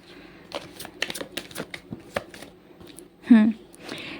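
Tarot cards are shuffled by hand in a series of quick, crisp riffling flicks at close range, followed by a brief burst of a voice speaking.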